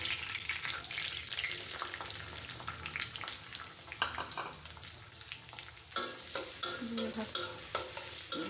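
Chopped onions frying in oil with bay leaves, cinnamon sticks and cardamom for a chickpea curry, a steady close sizzle broken by louder scraping stirs toward the end.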